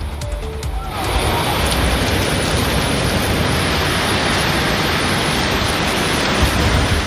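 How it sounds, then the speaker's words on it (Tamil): Moderate rain falls in the Chinnalapatti area of Dindigul district; after a brief quieter opening, a loud, even wash of rain hiss sets in and holds steady. "திண்டுக்கல் மாவட்டம் சின்னாளப்பட்டி பகுதியில் மிதமான மழை பெய்தது."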